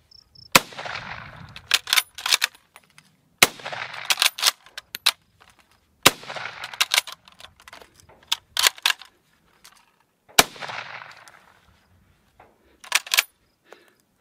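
A Finnish M39 Mosin Nagant rifle fires four sharp, loud single shots spaced a few seconds apart, each followed by metallic clacks of the bolt being worked.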